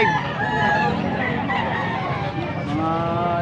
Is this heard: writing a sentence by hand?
no